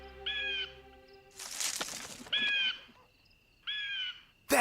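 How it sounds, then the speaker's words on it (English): A hawk lets out three harsh, harmonic calls that ring fairly close and loud, with a burst of broadband rustling or flapping between the first two calls and a short clipped sound at the very end. "That hawk! He's the assassin's messenger!"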